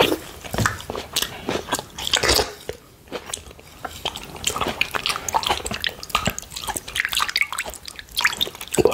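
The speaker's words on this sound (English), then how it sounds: "I put some water over here in a bowl so I can make water sounds" Water drips, trickles and splashes in a bowl close by, with irregular wet plinks and sloshes continuing throughout.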